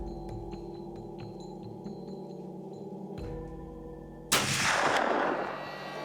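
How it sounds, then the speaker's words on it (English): A single hunting rifle shot cracks out loud and close after a stretch of quiet outdoor hum, its sharp blast trailing into a rolling decay. "Gotta make this shot count"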